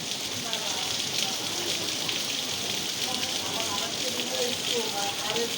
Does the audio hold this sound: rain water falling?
yes